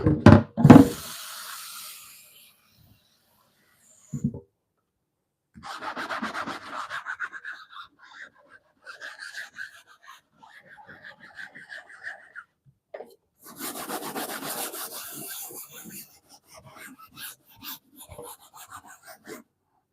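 Intermittent scrubbing and rubbing on a wooden cutting board under running water, with a few sharp knocks of the board early on and bursts of rinsing between quieter pauses.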